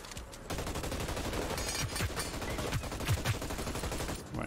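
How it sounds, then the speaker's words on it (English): Constant gunfire in the online shooter Hyper Scape, with dense overlapping bursts of rapid shots rolling continuously across the few seconds, loud and busy. "They're still shooting at me?"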